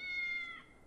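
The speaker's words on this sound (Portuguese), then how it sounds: "Um gato." A cat in the Fantasian video game gives one short, clear, tonal meow, close and on its own.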